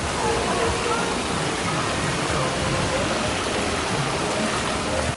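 Hotel waterfall splashing steadily into a koi pond, a dense, unbroken rush of falling water close by with no break in its hiss.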